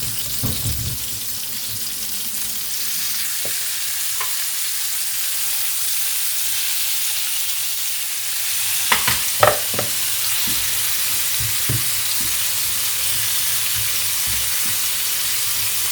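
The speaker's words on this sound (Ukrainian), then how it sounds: "Обсмажую вже курочку і айву на вершковому маслі." Chicken and quince fry in butter in a pan, giving a steady, even sizzle throughout with a few sharp clinks and stirring scrapes partway through.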